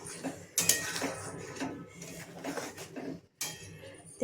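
A spoon scrapes and clanks around a pot as mustard paste and a little raw oil are mixed into katla fish kaliya, producing irregular metallic strokes up close with brief pauses between them.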